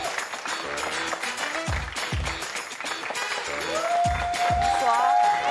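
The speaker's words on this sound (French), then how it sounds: "On reçoit maintenant avec une pluie d'applaudissements." Studio audience applauding a guest arriving on a French TV show, with dense clapping and cheering throughout while music with a rising sustained tone plays over it.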